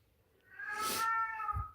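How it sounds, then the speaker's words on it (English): A pet cat lets out a single drawn-out meow, clear and close, rising and then fading in a quiet room. "If my cat would be quiet"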